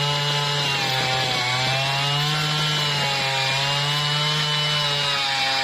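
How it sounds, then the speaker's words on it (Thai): A handheld earth auger drills a hole for a precast fence post, its small engine droning loudly and continuously with a gritty, grinding edge as it bores into the soil. "ก็จะทำการเจาะนะครับด้วยเครื่องเจาะมือถือนะครับ"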